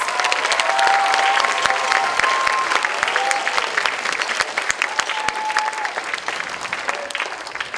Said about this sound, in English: How about one more round of applause for all of those chamber groups?